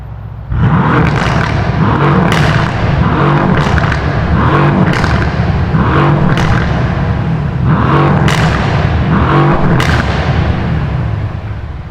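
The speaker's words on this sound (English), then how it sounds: "Let's give y'all some revs real quick though." A 500 horsepower Mercedes-AMG car revs repeatedly, each blip rising to a sharp roar and falling back to a deep, rumbling idle, loud and close, with no talk over it.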